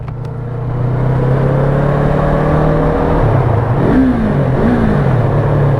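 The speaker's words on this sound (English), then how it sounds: "And there's not a lot of noise to that engine. It is super quiet for a 300cc. But it's got that low chug to it." Yamaha MT-03 300cc motorcycle engine rumbles with a low, steady chug that swells as it revs and shifts, mixed with wind and road noise while riding under a bridge.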